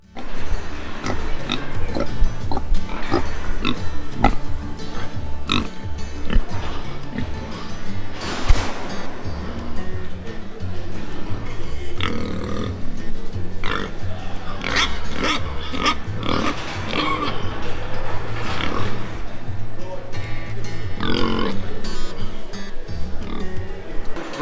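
Pigs grunting and oinking in the pig section of a fatstock show, steady and fairly loud amid a dense, echoing barn crowd hubbub, with occasional squeals and clatter.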